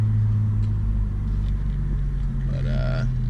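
A 2017 Honda Civic fitted with a catless downpipe, muffler delete and cold air intake drives through a neighborhood, its steady low exhaust drone and engine rumble continuous and close throughout, with a brief higher tone near the end.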